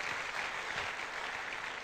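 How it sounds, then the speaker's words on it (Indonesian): Steady applause from a seminar audience for two doctors, a dense, even wash of clapping that sounds somewhat distant and holds without a break through the short stretch. "Mohon aplaus untuk dokter ini dan dokter Haryono"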